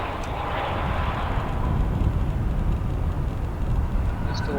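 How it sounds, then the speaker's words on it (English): United Airbus A319 airliner at O'Hare airport, a broad steady jet roar with wind noise, moderately distant and unbroken. "Got a United Airbus A319 coming from Mexico City"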